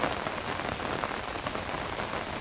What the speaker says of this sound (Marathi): पाऊस आलाय स्वतःच